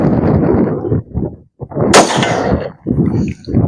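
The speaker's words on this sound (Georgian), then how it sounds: "მეორე გასროლა" Sabatti .30-06 rifle fired outdoors, a single sharp loud report near the middle cutting through ongoing talk, with voices before and after the shot.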